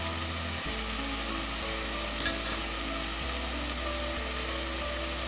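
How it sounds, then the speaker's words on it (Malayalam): Masala powders, including chili powder, sizzle steadily in hot oil with tomato while being sautéed for a cauliflower and mutton curry, a close, continuous frying hiss with faint stirring and no voices. "അങ്ങനെ നമുക്കിതിനെ നന്നായിട്ട് തന്നെ വഴറ്റിയെടുക്കാം."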